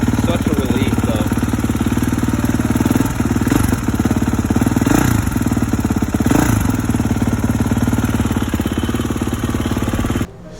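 A 2019-2023 Kawasaki KX450 motorcycle engine running after an electric start, with freshly adjusted valves: a loud, steady, rapid-pulsing idle with a few brief revs, close up, cutting off abruptly at the end.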